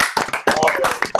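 A few people clap briefly in a podcast studio for a guest named Robert, close, uneven handclaps with speech blended in.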